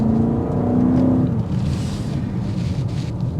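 A 2024 BMW X7 M60i SUV accelerates in sport mode, its engine note rising briefly before settling into a loud, rushing drone blended with wind and road noise, with no talk.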